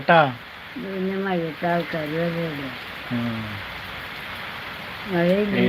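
Rain falls as a steady, even hiss throughout, while someone talks close by in short bursts over it.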